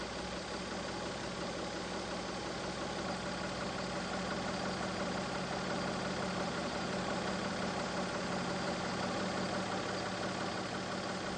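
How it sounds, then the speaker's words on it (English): A Mazda MX-3 with the K8 engine idles, producing a steady, even hum that holds unchanged for about eleven seconds, close and alone without voices. "Check to see if the idle speed is within specification."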